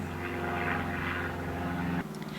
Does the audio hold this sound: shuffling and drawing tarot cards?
no